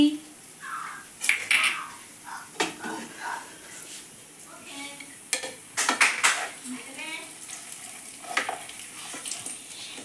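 A spoon or spatula scrapes and clinks in a pan while raw banana fry curry sizzles softly in tempered oil. The stirring comes in irregular strokes, with quiet talk between them.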